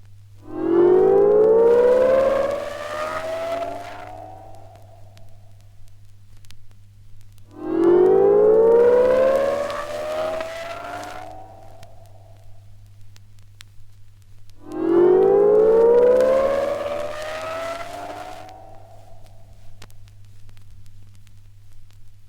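Three identical swept-noise bursts from a stereo test record, used for a loudspeaker polarity check, each rising in pitch like a siren and spaced evenly apart over a low steady hum, with no talk.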